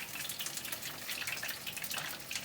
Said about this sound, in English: Little bit of water.